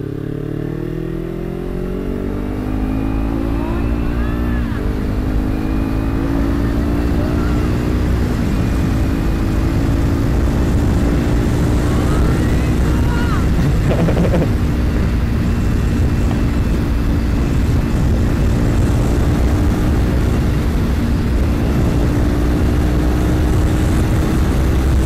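A Kawasaki Ninja 300 motorcycle engine runs loud and steady throughout, its rising, sweeping harmonics suggesting revving and riding close by, with no talking.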